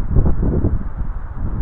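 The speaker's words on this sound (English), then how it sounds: "It's pretty windy." Low, blustery wind buffeting a microphone outdoors, a steady rumbling roar with gusty swells and no voices.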